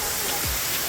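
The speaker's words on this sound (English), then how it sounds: "we're doing it here at the waterfall" Steady, dense roar of a waterfall in Grenada fills the whole moment, a constant broadband rush of falling water heard up close with no distinct breaks.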